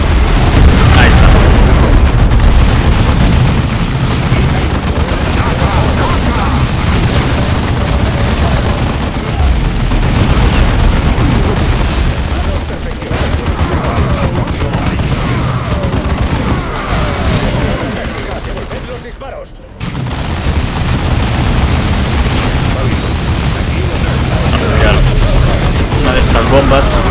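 Plasma cannon fire in Warhammer 40k Dawn of War 2: dense, continuous booming explosions and gunfire rumble throughout, loud and heavy, with a short lull near the end before the barrage resumes, and a voice talking over it.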